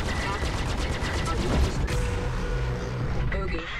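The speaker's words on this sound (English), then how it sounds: "Firing missiles." Missiles fire from a spaceship in the video game Star Citizen, a loud, close burst of rapid launching thumps and mechanical clatter followed by a fading rumble.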